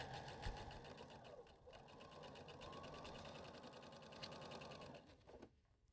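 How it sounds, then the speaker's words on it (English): A sewing machine stitching a quarter-inch seam, a steady rapid whirring run of stitches with slight speed changes that stops near the end, faint and close, with no talk. "I'm gonna take it to the machine and use a 1/4 inch seam allowance and sew this together"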